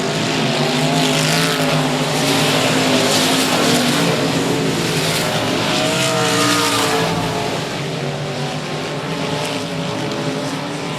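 Race car at 105 Speedway spinning out on track, a loud sustained engine roar with shifting pitch and heavy rumble, no talk over it.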